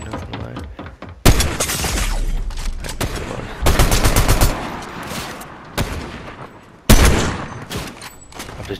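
Gunfire in the Fortnite video game: repeated bursts of rapid automatic shots and sharp single cracks, loud and close, with short lulls between volleys.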